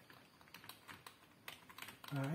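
Quick, light clicks of typing on a computer keyboard connected to a laptop, a run of soft close keystrokes at an uneven pace, followed briefly by a louder rising tone at the end.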